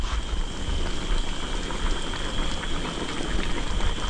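A large pot of chicken adobo with eggs, cooked in bulk with vinegar and left uncovered, boils steadily at a rolling simmer, giving a dense, continuous bubbling hiss without pause.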